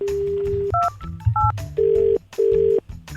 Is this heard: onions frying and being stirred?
no